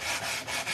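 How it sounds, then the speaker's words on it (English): A Gator hand sander rubs over painted wood in steady back-and-forth strokes, about three close, loud rasping passes with no talking. "I'm going to take my gator sander and I'm just going to continue to sand until we get the desired look."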